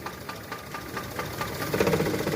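Alto K10 car engine idling with a misfire, a close mechanical clatter with a regular pulsing rhythm and an occasional uneven stumble, growing slightly louder toward the end, with no talking.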